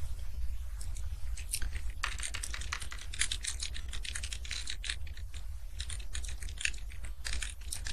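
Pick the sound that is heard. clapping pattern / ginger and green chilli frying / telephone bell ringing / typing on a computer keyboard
typing on a computer keyboard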